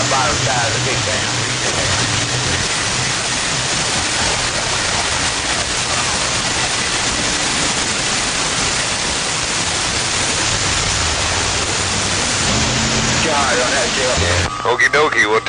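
Water rushes steadily through the water gate on the lower side of a big dam, a dense continuous roar that holds level throughout, ending with a brief change near the finish.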